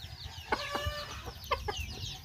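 Native gamecock chickens from Kadingilan, Bukidnon cluck in a few short, clear bursts close by, with quiet yard noise between the calls.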